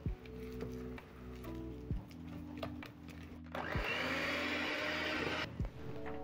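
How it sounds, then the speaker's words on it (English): Electric mixer whirring through red velvet cake batter in a bowl, a steady motor hum that shifts to a louder, rougher whir partway through, with brief knocks against the bowl; no talk. "Mix up some more, make sure everything is getting smooth."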